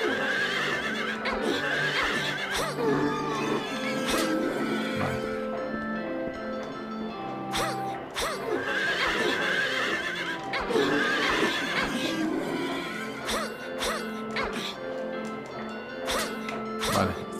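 Horses neighing in the amusement park of the video game Silent Hill 3, repeated loud whinnies over clip-clop hoofbeats and heavy thuds and crashes, with someone talking at times.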